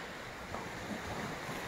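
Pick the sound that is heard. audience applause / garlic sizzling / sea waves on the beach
sea waves on the beach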